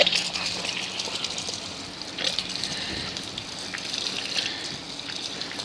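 Steady gush of water rinsing mud and dirt off a dirt bike after foaming, a continuous close hiss with slight surges and no talking.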